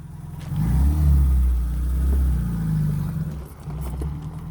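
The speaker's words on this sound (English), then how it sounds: "He's spinning tires, bro." A 1987 Suzuki Samurai engine revs hard with a deep, close rumble that rises and falls while its tires spin, continuing steadily with brief dips.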